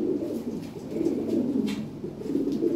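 A Lahori pigeon coos in low, soft, repeated phrases close by, a gentle throaty rolling sound with no talking.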